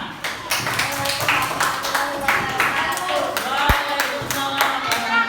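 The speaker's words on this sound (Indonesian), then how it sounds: "Oke, beri aplaus tepuk tangan." Classroom of fifth-grade students clapping hands together in a burst of applause, sharp overlapping claps with children's voices chattering underneath throughout.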